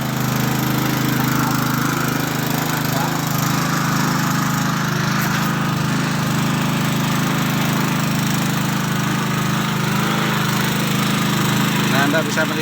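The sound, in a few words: simple homemade well-drilling rig running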